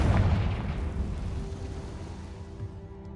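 A Confringo fire spell blast in the video game Hogwarts Legacy: a loud booming burst at the start that rumbles and decays over about three seconds, with no talk.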